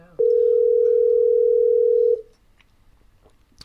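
A single steady telephone tone, loud and close, holds for about two seconds while a call is placed to leave a voicemail, then cuts off into quiet room noise.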